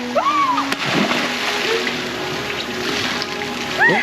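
A person jumps into the sea off Palawan, El Nido, making a splash amid sloshing water and outdoor ambience, with brief voices and whistle-like calls around it.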